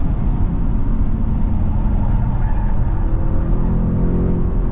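An Audi RS car accelerates hard around Fuji Speedway, its engine a loud, continuous roar heard from on board with no talk over it.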